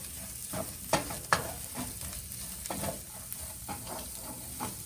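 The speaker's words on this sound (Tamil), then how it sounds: "கருவேப்பிலை, கொத்தமல்லி போட்டுட்டு ஜஸ்ட் ஒரு மிக்ஸ் பண்ணிட்டு" Paniyaram batter mixture being stirred with curry leaves and coriander, soft scraping strokes at an irregular rhythm over a faint background sizzle and hiss, fairly quiet with no voices.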